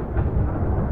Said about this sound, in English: That loud thunderstorm.